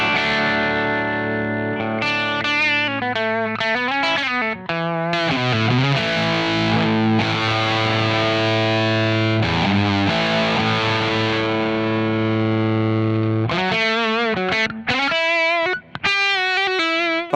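Electric guitar played through a freshly built pedalboard with fuzz effects, loud distorted sustained chords and bending lead notes ringing continuously with chorus-like shimmer, brief gaps between phrases.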